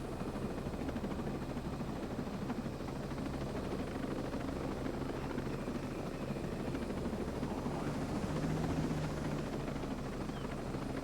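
Helicopter rotor and engine drone in the video game Ghost Recon Breakpoint, a steady dense whir holding at even loudness throughout with a slight swell near the end, no talking over it.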